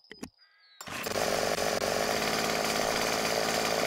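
A chainsaw in the video game 7 Days to Die starts up after a couple of sharp clicks and a brief pull, then roars into a loud, steady buzzing idle that continues to the end.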